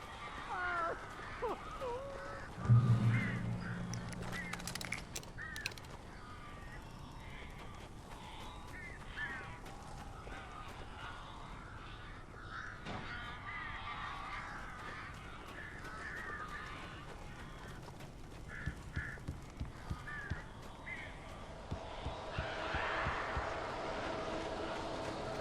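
Strange birds in Alan Wake Remastered give harsh crow-like caws, scattered and intermittent over a low, murky game ambience, with one louder burst early on and clusters of calls near the end.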